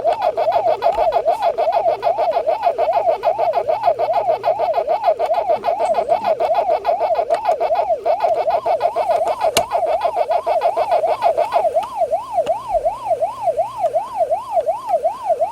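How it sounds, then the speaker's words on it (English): Electronic Pac-Man arcade game sounds from a small OLED handheld version: a warbling siren-like tone repeating rhythmically throughout, with chirpy blips over it, loud and continuous. "Looks like Pac-Man, sounds like Pac-Man,"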